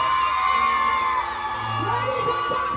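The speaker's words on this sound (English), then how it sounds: "let me hear you scream." A festival crowd screams and cheers at a trailer-trucking stage show in Jamaica, a loud, sustained roar of whoops and yells that swells and continues without a break across the whole moment.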